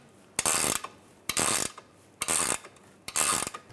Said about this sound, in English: Now I'm gonna tighten this nut down.